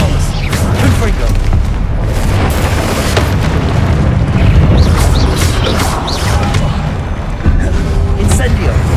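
The Confringo explosive spell from Hogwarts Legacy blasts in a loud, dense stretch of booming and crashing combat noise that barely lets up, with a voice shouting spells over the chaos.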